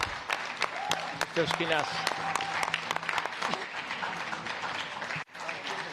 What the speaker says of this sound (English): the round of applause made it count